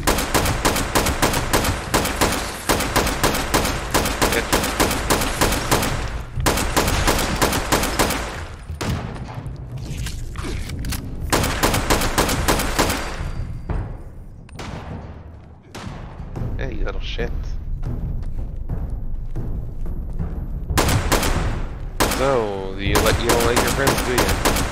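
Sustained automatic gunfire in Fallout 76 aimed at enemies, loud rapid bursts repeating over many seconds with brief pauses, a voice talking in between.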